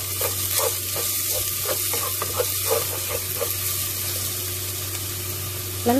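Garlic going into onions already softened in a hot pan for a red bean and potato vegetable stew, with steady close sizzling and frying crackle plus occasional stirring scrapes and clinks.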